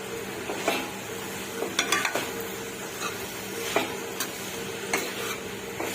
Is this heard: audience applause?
no